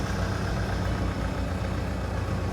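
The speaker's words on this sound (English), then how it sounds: "Let's just see if I can start the engine" A car engine runs at a steady, even idle close by, a continuous low rumble with no voices.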